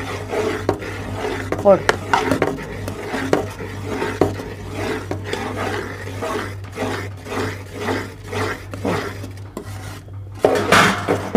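Athirasam dough is stirred in a metal pot for Deepavali sweets, a rhythmic series of close scraping and knocking strokes against the vessel over a low hum, with a brief spoken word partway through.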